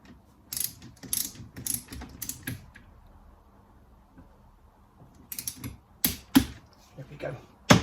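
A part screwed by hand into a gearbox during a rebuild, heard as bursts of close mechanical clicking and ratchet-like ticking separated by a quiet gap.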